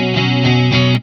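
A guitar runs through the chorus mode of an Old Blood Noise Endeavors Excess V2 pedal with deep, slow modulation, producing loud sustained chords that swell and waver in three pulses before cutting off.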